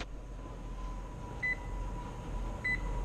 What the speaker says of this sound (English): let's set this timer here for